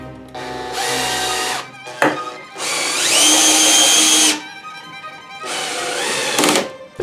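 A power drill drives screws into wood in three long bursts, each with a whining motor that climbs in pitch, separated by short pauses and sharp clicks, close and loud.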